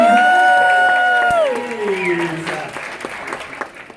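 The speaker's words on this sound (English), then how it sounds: "ladies and gentlemen, let's give them a big round of applause" Aboard a cruise ship during a newlywed game show, the audience applauds while a loud voice whoops and slides downward in pitch over the clapping, which then thins out into scattered claps.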